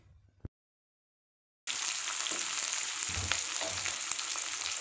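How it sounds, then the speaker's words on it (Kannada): Green chillies and onion hit hot oil: a short sound, then a brief silence, then a sudden steady loud hiss of frying that carries on close to the end. "ಇದನ್ನ ಚೆನ್ನಾಗಿ ಫ್ರೈ ಮಾಡ್ಕೊಳ್ಳೋಣ."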